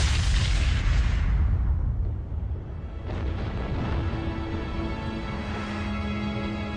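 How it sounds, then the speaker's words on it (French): A supernova sound effect for an exploding star: a loud, deep rumbling boom that swells at once, rolls on and slowly fades into a low sustained drone. "Pour finir, l'étoile explose."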